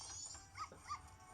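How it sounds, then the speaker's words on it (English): A little puppy in a video game gives two faint, brief high yips or whimpers over quiet background sound. "it's a cute little puppy"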